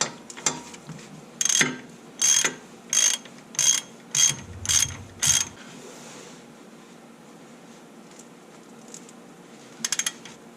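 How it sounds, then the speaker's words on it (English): A hand ratchet with an 18mm socket tightening bolts on a 2016 Jeep JK rear axle, giving seven evenly spaced, crisp clicking bursts up close, then quiet, then a brief final flurry of clicks. "Now we're going to take our 18mm socket and tighten those up."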